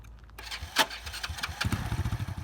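A cheap used motorbike engine, offered for under $200 in Southeast Asia, coughs and catches on the start, then settles into an uneven, sputtering idle close by.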